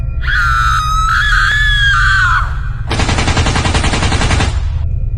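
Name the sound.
character screaming in Free Fire video game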